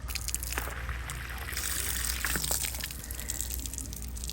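Water drains from a small portable washing machine into a cup, a close, steady pour and trickle with splashy bursts and no talk.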